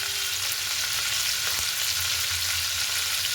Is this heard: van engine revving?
no